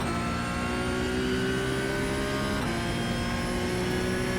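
A Porsche 911 GT3 Cup 992.1 engine at full throttle in iRacing, a loud, steady high-pitched race-car drone rising in pitch, with a quick shift midway before climbing again, no speech.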